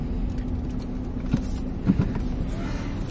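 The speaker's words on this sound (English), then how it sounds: "Speed bump." A car rolls over a speed bump, engine hum and road noise steady throughout with a couple of soft thumps from the suspension as the wheels cross.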